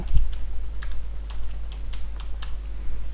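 Keys clicking on a computer keyboard as a password is typed during Windows Server 2016 Core domain controller setup, a quick run of light taps at an uneven pace over a steady low hum.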